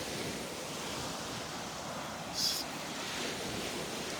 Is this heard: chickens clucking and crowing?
no